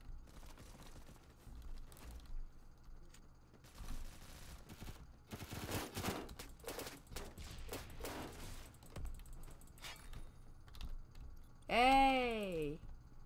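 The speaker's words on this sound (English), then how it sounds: "Ah, my favorite weapon, the shotgun." Shotgun fire in the video game Phantom Forces, on the Dust 2 map, comes in clustered bursts of blasts and mechanical clatter over game ambience, with a voice talking and a rising electronic tone at the end.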